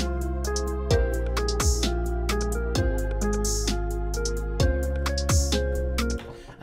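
A hip hop beat built in FL Studio 20 plays loud and clean, with booming bass hits dropping on each bar under crisp, regularly spaced drum hits and a melodic layer, ending with a brief fade.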